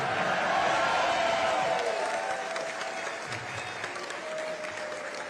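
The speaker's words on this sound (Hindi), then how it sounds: "ये आपकी ताली से पता चल गया मुझे।" Sustained applause from an Indian community audience at a prime ministerial address in Abuja, Nigeria, dense clapping with some cheering that stays loud and steady before easing slightly, no speech over it.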